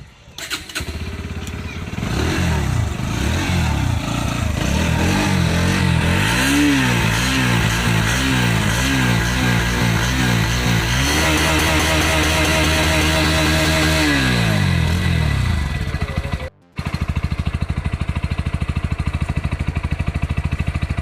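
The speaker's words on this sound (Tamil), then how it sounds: "எக்ஸாஸ்ட் நோட் எப்படி இருக்குன்னு சொல்லிட்டு இப்போ பார்க்கலாம்." A Bajaj Pulsar NS 160 BS6 motorcycle starts up and its exhaust revs repeatedly, loud and close, with rising and falling engine pitch before cutting off near the end.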